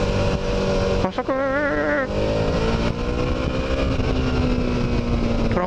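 Suzuki V-Strom 650 motorcycle accelerating out of a corner on a winding road, a loud continuous engine drone that climbs in pitch through a gear change with wind noise behind it.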